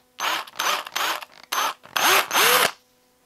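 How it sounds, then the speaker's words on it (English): A power drill bores a hole into a handmade balsa wood fishing lure in short, close, whirring bursts, six or so quick pulses with brief pauses and pitch shifts as the motor starts and stops, with no talk. "make sure that I've got a good spot to drill my hole here"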